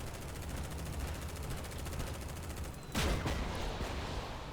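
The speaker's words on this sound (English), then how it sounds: "Okay, we got some heavy missiles coming in." Heavy missiles come in during the video game Silica: a dense, continuous rumble of rapid gunfire-like blasts, then a sharper, louder explosion strikes near the end.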